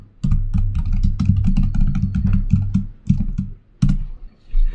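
Rapid clattering keystrokes on a computer keyboard as a command is typed at a prompt, close and dry, with brief pauses between bursts.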